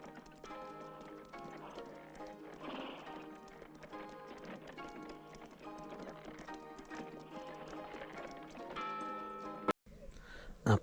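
Horses gallop in a film action scene, a quick clip-clop of hooves running under a busy orchestral score, with voices calling out briefly and a sudden loud cut near the end.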